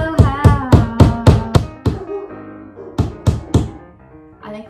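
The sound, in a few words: knocking sound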